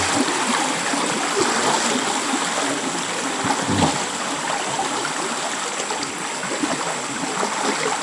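Flowing river water where people bathe, a steady broadband rush with a constant hiss and no pauses, fairly close and alone.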